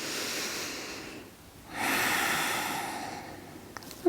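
Breathing while holding a warrior two yoga pose: a long airy exhale, a brief pause, then a slow steady breath, near and soft with no talk.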